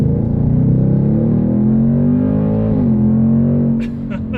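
A 2024 Ford Mustang GT with automatic transmission gives a deep, loud V8 engine drone that rises in pitch as it revs, dips briefly, climbs again, then eases off near the end.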